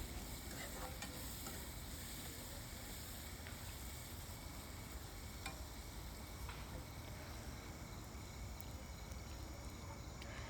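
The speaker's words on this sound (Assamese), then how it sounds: "এতিয়া আকৌ মছলাখিনিৰ লগত ভেজিটেবলছখিনি ভালকৈ ভাজি লম" Vegetables frying with spices in a pan for pasta, a steady faint crackling sizzle with occasional soft stirring clicks, no talk.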